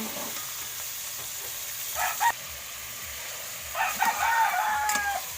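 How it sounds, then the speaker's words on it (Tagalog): Chicken meat for tinola, a chicken and chayote soup, being stirred and mixed with its seasonings in a pot over a steady sizzle. Two short bursts of scraping and clinking stand out, one near the start and a longer one toward the end. "konting halo-halo lang para ma-mix talaga yung mga sangkap sa ating karne"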